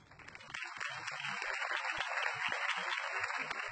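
Crowd applause at a political campaign rally in the Batman Telltale Series video game, a steady wash of clapping that swells in after a quiet start and holds at moderate level.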